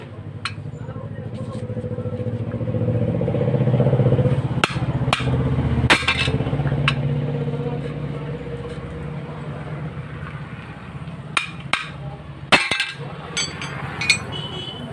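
Hammer blows on metal while bending a part during a motorcycle clutch chain fitting: scattered sharp clinking strikes, single and in quick pairs, close by, with someone talking and a low background hum.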